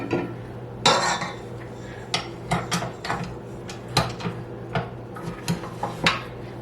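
Meatball mixture being mixed with breadcrumbs in a bowl: irregular clinks and knocks of a utensil against the bowl over soft squelching, close and fairly loud, with no talking.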